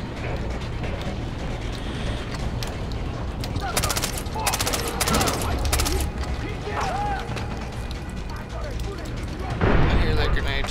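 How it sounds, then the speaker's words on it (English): Grenade blasts and gunfire in the video game Far Cry 3, a dense sustained barrage of shots with heavier bursts midway and a loud burst near the end, heard up close with no talking. "I hear that grenade too, by the way."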